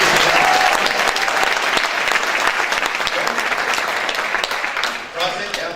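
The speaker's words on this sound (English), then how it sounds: "Give Angie a round of applause." An audience at a memorial benefit comedy show bursts into loud, sustained applause with cheering, the clapping dense and continuous before tapering slightly at the end.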